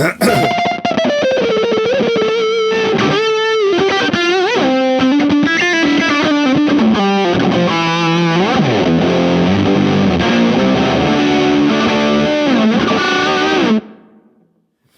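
A HangmanFX Atomic World Ender modulated fuzz pedal snarls through a guitar rig, thick distorted tones wobbling and warbling under ring-mod drone, loud and continuous before cutting off abruptly near the end.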